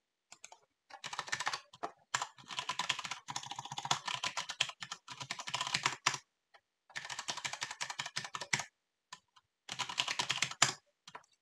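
An email address is typed on a computer keyboard in quick, close, quiet bursts of clicking keystrokes, separated by short pauses.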